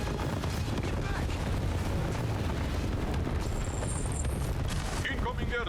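Airstrike bombing explosions rumble in the Tempest Rising real-time strategy game, a continuous loud roar of blasts and booms with no quiet gaps, as in-game voices speak over it.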